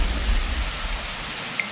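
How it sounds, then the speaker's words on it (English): Steady rain hisses down in the video game Universim, a dense, even wash of falling water with a low rumble underneath and no voices. "it's actually raining naturally now"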